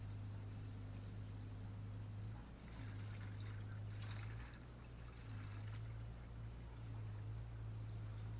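Distilled water pours into a Kubota L3750 tractor in a faint, steady trickle over a low mechanical hum, with brief splashy surges partway through and no one talking.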